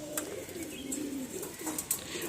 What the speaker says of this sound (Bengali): এই যে পায়রাগুলো